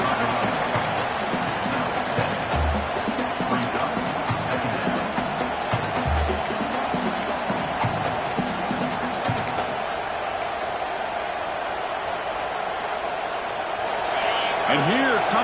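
A college football stadium crowd at a Longhorns game roars steadily through a red-zone defensive stand, a dense, sustained wash of noise with voices talking over it.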